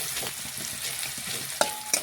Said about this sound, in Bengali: এই দেখুন এইভাবে বেশ কিছুক্ষণ নাড়াচাড়া করে নিচ্ছি